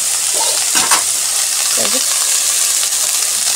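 Steady sizzling of vegetables frying in a pan, with a few brief stirring scrapes and faint clatter, continuous and close throughout.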